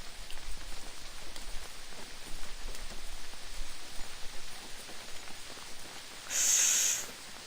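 Rain falls steadily in a detective visual novel video game, a soft continuous patter and hiss heard alone, with a brief brighter tone near the end.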